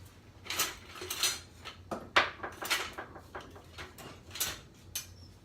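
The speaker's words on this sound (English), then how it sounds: "Let me get a spatula real quick." Kitchen utensils clatter and clink as a spatula is fetched while making jalapeño turkey burgers, a series of sharp metallic knocks and rattles at irregular intervals, fairly close and moderately loud.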